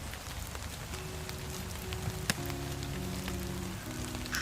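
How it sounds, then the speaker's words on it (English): Steady rain patters outdoors during a run, a constant close hiss of drops with a few brief clicks and faint low tonal hums underneath, no voices. "today's weather is less than ideal, but a run in the rain is always kind of fun"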